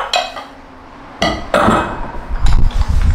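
Ceramic ramen bowls in a three-piece set knocking and clinking together as they are handled, a few sharp close clatters separated by brief pauses with no talk.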